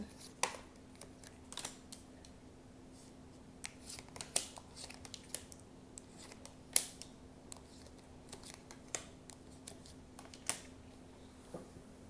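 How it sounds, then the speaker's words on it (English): Tarot cards laid out one by one on a table, giving soft, scattered taps and slaps at an irregular pace against a low steady hum, with no talking. "let's lay these cards out"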